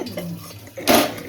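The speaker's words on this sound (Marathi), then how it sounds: "इकडे बघा भांडी घासणार काम चालू आहे" Pots and dishes being washed and scrubbed in a village home in Maharashtra: a quiet stretch, then a short loud burst of splashing water and clattering metal close by.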